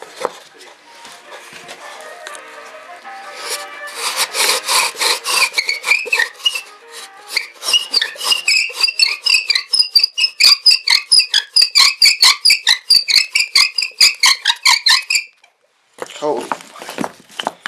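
A wooden fire bow drill works against its socket, giving a rapid rhythmic rasping squeak with each stroke of the bow, loud and close, building up after a quieter start, breaking off briefly and then resuming near the end.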